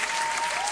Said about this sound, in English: Let me give you them claps.